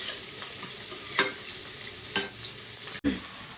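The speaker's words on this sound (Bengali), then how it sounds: "কিছুটা সময় এটা ভেজে নিব খুব বেশি সময় লাগবো না" Food fries with coriander in a pan, a steady close sizzle broken by a few sharp scrapes of stirring and a brief clatter near the end.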